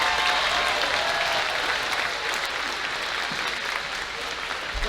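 Audience at a Brantley County Middle School band Christmas concert applauds, a dense, steady wash of many hands clapping in a hall that holds level for the full stretch.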